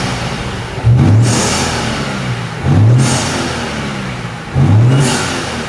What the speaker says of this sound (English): Now I'm going to show you what the Eventuri intakes sound like because they sound insane.